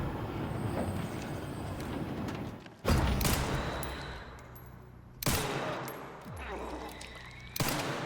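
Gunfire in the survival horror game Resident Evil Requiem, with sharp loud shots at intervals cutting through a dense, noisy game soundscape.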